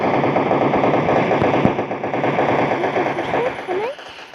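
Sustained automatic gunfire in a video game, dense rapid bursts running loud throughout, with someone talking over the shooting.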